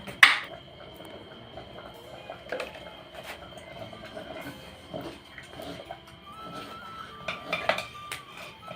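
Spoon clinking and scraping inside a metal pot while dal makhani is stirred with salt and garam masala at home, with repeated light metallic knocks and rattles over a quiet kitchen background.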